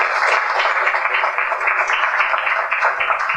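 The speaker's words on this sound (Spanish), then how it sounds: "Lo recibimos con un fuerte aplauso." An audience at a Lima legal event applauds to welcome a distinguished arbitration scholar to the podium: steady, dense clapping from a full room that holds at an even level throughout, with no voices above it.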